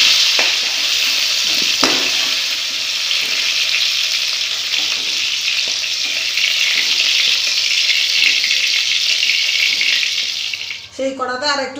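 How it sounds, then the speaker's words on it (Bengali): Onions fry in a kadai with salt and turmeric, a loud, continuous close-up sizzle with occasional stirring, and a brief different sound near the end. "দিয়ে ভালো করে নাড়াচাড়া করে পেঁয়াজটাকে ভেজে নেব।"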